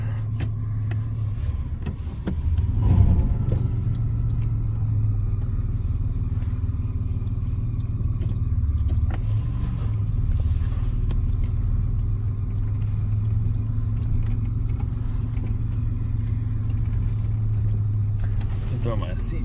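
A 1994 Chevy S10 pickup's engine runs at a steady low idle rumble, close and continuous, with a brief swell near the start and someone speaking over it.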